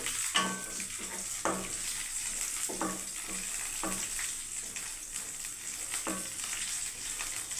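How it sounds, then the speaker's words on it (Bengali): Raw banana slices sizzle and fry in a little mustard oil, Telugu style, with cashews in the pan; a steady close crackle is broken by repeated soft scraping knocks of stirring. "দেখুন তেলেগু স্টাইলে কাঁচা কলা ফ্রাই বন্ধুরা, ব্যানানা ফ্রাই, কাঁচা কলা ফ্রাই।"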